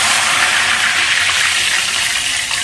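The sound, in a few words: ghevar batter poured into hot fat, bubbling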